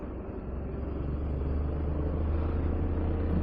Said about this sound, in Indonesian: Ada mobil lagi guys di depan.